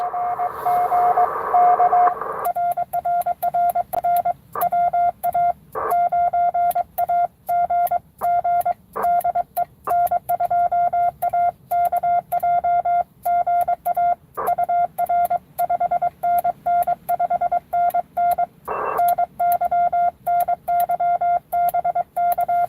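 Morse code CW signals on an amateur radio, a steady pure tone keyed in rapid dots and dashes, loud and close and continuing throughout.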